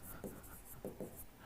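Chalk or marker strokes on a board during a welding theory lecture, a few short scratchy taps and swipes, faint and close, between a teacher's speech.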